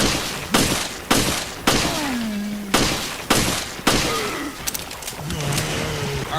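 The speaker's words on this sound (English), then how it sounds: "let's test Jill's Samurai Edge on a ooze" Jill's Samurai Edge pistol fired at an ooze creature in Resident Evil: Revelations: about seven sharp, loud single shots spaced roughly half a second apart, with creature groans and game ambience underneath.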